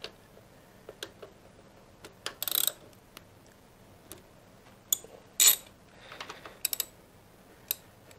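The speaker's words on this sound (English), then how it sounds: "we use an 8mm hex to take the brake caliper bolts off. Of course, we'll just loosen them to start with" Ratchet clicks from an 8mm hex loosening the brake caliper bolts on a Harley-Davidson Pan America motorcycle, scattered sharp ticks and short ratcheting bursts in a quiet workshop.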